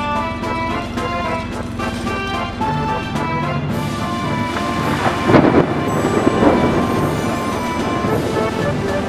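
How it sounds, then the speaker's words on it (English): A thunderstorm in the video game Dude Theft Wars: steady rain and wind hiss over a low, droning engine-like hum, with a couple of louder rumbling cracks of thunder midway. "There's a storm in Area 51."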